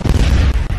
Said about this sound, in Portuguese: Explodiu e tirou minha vida